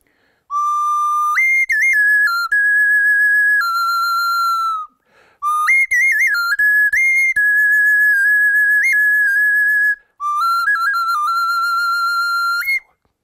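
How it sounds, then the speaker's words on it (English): A hollow eagle bone whistle with finger holes cut into it, played like a flute in Indigenous Colorado style, sounds three clear, breathy melodic phrases of stepped, sliding pitches, each separated by a short pause, with no other sound. "somebody got the idea that they should put some holes in the eagle bone whistle"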